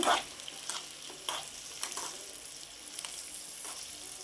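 Sliced potatoes for aloo fry are stirred in a pan over a low flame, with soft, repeated spoon scrapes and light clatter above a quiet, continuous sizzle.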